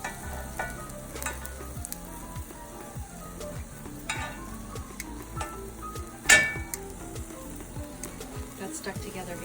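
Frozen shrimp sizzling in a hot pan and being flipped over, a steady soft fry with occasional clinks and scrapes of a utensil, one sharp clatter midway, close by.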